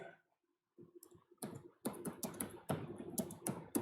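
Keys of a computer keyboard clicking as Python code is typed, beginning with a few sparse taps and then settling into a quick, steady run of close, crisp keystrokes.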